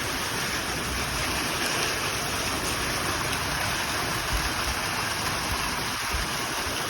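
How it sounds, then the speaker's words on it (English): Hail and heavy rain pour down in a violent storm as a dense, loud, unbroken roar that fills the whole stretch with no talking. "I cannot believe that the hail is that big."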